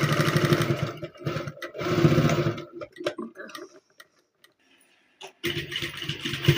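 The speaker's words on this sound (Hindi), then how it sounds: "इस तरह से रखते हुए सिलाई मार देंगे, पक्का करते हुए इस तरह से।" A sewing machine stitching the belt of a loose pant, running in two short rapid bursts of dense mechanical clatter, then a few faint ticks and a near-silent pause before another burst of stitching near the end.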